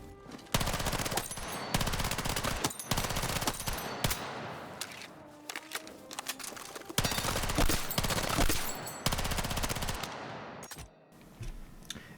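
Automatic gunfire from a rifle fitted without a grip in Battlefield 6, long rapid bursts of close, loud shots separated by short pauses, with no talking.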